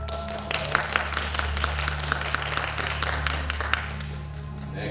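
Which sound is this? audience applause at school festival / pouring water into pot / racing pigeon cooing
audience applause at school festival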